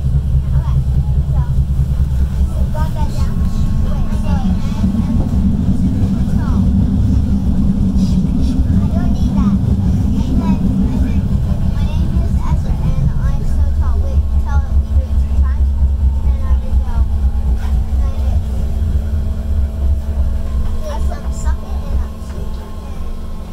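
A BART airport-bound train running between stations in the San Francisco Bay Area, with a loud, steady low rumble and rolling hum throughout, easing slightly near the end; faint voices sit under the noise.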